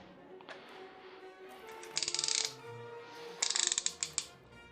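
A ratchet tightens a piston ring compressor on a 350 Chevy engine, giving two close bursts of rapid metallic clicks, each about half a second long, over faint background noise, with a couple of lone clicks afterward.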